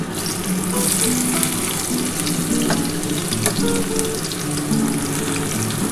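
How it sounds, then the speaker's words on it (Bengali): Three chopped onions frying in hot oil, giving a steady, loud, close sizzle that holds without a break throughout. "আবার কিন্তু তেলটা গরম হয়ে গেছে আমি এবার তেলটার মধ্যে আমি পেঁয়াজ কুচিয়েছি সেই পেঁয়াজটা দিয়ে দেবো"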